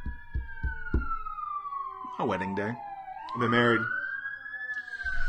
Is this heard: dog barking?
no